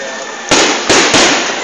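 Fireworks and firecrackers exploding outdoors, three loud close sharp bursts each trailing into a crackling hiss, over a steady background rush.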